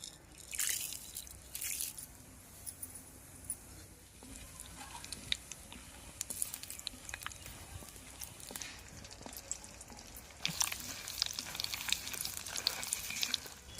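Tempering spices, dried red chillies and garlic cloves crackle and spit in hot groundnut oil for a village-style green tomato chutney, with intermittent loud sizzling bursts and no talking.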